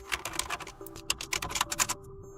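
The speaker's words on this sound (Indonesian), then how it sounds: "Jadi kita akan mengetik kode sederhana dalam C++." Someone typing code on a computer keyboard: a quick, irregular run of soft, close key clicks with a faint steady hum underneath and no talk.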